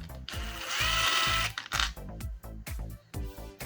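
Phillips screws being driven out of the seat controls on a Mustang, a close run of repeated whirring bursts from a power screwdriver with short pauses between them, and no talking.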